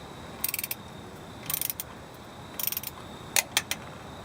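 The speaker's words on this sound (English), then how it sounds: "Now we're going to torque it down, 25 foot-pounds, star pattern." A torque wrench ratchets on the bolts of a rear differential cover, tightened to 25 foot-pounds in a star pattern: short bursts of crisp clicking repeat at irregular intervals, close and fairly quiet, with no talk.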